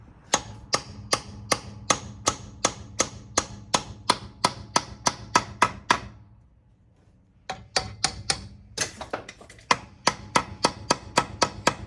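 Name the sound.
hammering metal bracket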